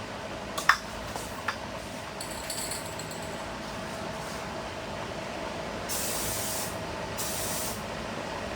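A rattle can sprays white enamel paint onto a Honda Civic: two short bursts of hissing spray near the end over a low background rumble, with a few faint ticks earlier.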